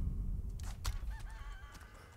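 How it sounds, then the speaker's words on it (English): Chickens cluck and squawk in a village in the Resident Evil 4 Remake video game, a few short scattered calls over a low background rumble, no talking. "Yay, chickens."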